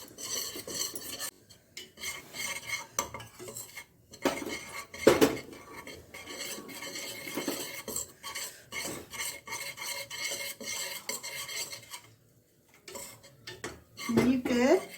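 Metal whisk stirring flour roasted in butter in a pan over a slow flame as milk is added little by little, making close, steady scraping and clinking against the pan with a brief break near the end.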